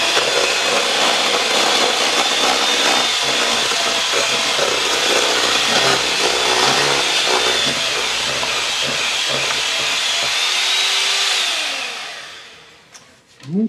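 A hand mixer whirs steadily through chocolate cake batter, a constant bright buzzing hum with faint scraping that runs continuously before winding down and stopping near the end.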